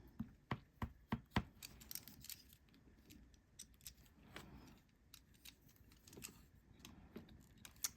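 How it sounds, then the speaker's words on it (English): A knife trimming around the edge of a piece of polymer clay: a quick run of sharp, close clicking cuts at first, then softer scattered taps and scrapes, quiet and without talk. "So just take your knife and trim around it."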